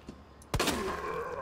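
Gunshots in the Resident Evil 2 Remake video game, a single sharp blast after a soft earlier pop, followed by a ringing, rumbling tail.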